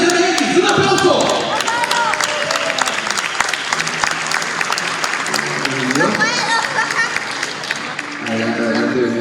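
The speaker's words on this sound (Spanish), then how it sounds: "Tenemos como el primer invitado a Jorge Solares de Monografía CMX. ¡Un aplauso!" A convention crowd at Millennium Fancon 2023 applauds a guest with loud, sustained clapping and some cheering throughout, while voices talk over the noise.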